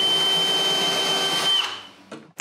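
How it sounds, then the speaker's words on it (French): A power saw cutting a piece of melamine for a spacer in a woodworking shop, a loud steady whine that winds down and stops after about a second and a half, followed by a couple of short knocks. "Je commence par couper un bout de mélamine comme espaceur."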